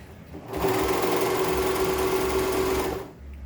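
A serger sews an elastic waistband channel on a skirt, a fast steady mechanical whir that starts abruptly, runs about two and a half seconds close up, then stops.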